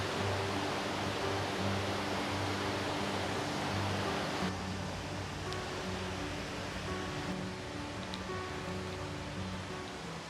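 Rushing river water below a waterfall in rural Antioquia, Colombia, a dense, constant roar close by that eases slightly halfway through.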